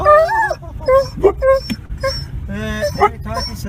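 A female dog whimpers and yips in short, rising and falling cries at the sight of another dog, close and excitable, in quick uneven bursts.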